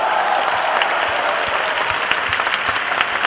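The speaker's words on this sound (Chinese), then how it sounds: "因为这个掌声太热烈了" A theater audience at a crosstalk comedy show applauds warmly, with dense, steady clapping from a large crowd sustained throughout at close, even loudness.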